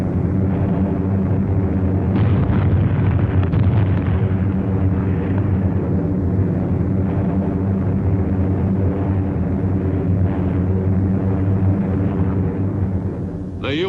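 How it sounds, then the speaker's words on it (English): Continuous heavy rumble of bombs exploding as American B-24 bombers make pre-invasion runs over Iwo Jima in 1944, a dense, loud, unbroken roar of blasts and engine drone throughout, like an old wartime newsreel soundtrack. "American B-24s made regular pre-invasion bomb runs to Iwo"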